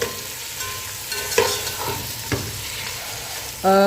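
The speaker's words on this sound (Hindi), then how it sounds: "अब हमने चिकन को इसमें अच्छे से भून लेना है" Chicken pieces browning in a pot for zafrani chicken pulao, with a close, busy sizzle, a few scraping stirs and knocks, ending in a brief tonal clang, no speech.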